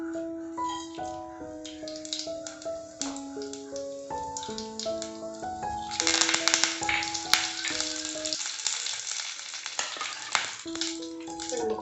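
Mustard seeds, dried chilies and curry leaves hit hot oil in a pan and burst into a loud, crackling sizzle over background music with a steady melody, followed by lighter spattering.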